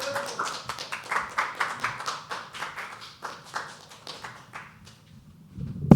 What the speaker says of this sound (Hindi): तालियां बजाकर साहिल का स्वागत कीजिए।